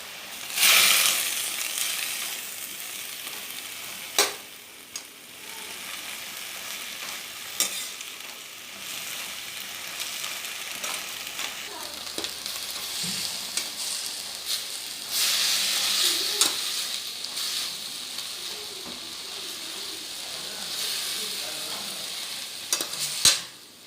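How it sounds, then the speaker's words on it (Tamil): Drumstick leaves are stir-fried in a pan for a poriyal, a continuous sizzle and hiss with periodic scraping stirs of a spatula, close and steady with no voices. "அந்த தண்ணி நல்லா வந்து ட்ரை ஆகிற வரைக்கும் நம்ம இந்த மாதிரி பிரட்டிக்கிட்டே இருக்கணும்"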